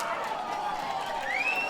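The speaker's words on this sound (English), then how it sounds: "Round of applause for TJ" Applause from a crowd for TJ at an anniversary bash in an Elks hall in Lawrence, Massachusetts, a steady dense clatter of clapping with a rising whistle near the end.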